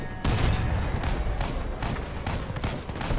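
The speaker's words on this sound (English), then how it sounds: "I used the wrong crosshair for the gun, the cannon." A tank cannon fires in the Crossout vehicle combat game, a dense burst of booming blasts and gunfire rolling loudly over a few seconds with no talk.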